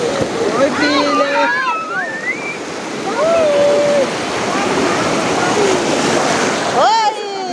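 Ocean waves break on the beach at Cabo Frio in a broad, loud wash of surf, with excited voices and shouts over it throughout.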